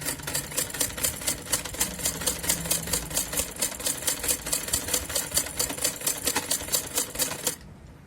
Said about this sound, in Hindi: मशीन में धागा डाल लेते हैं, ऊपर साइड का और नीचे की साइड का, और सिलाई स्टार्ट करते हैं।